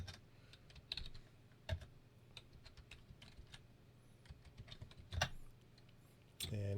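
Terminal command being typed on a computer keyboard: an irregular run of light, close key clicks with a few sharper taps and a final heavier keystroke, alone with no talk.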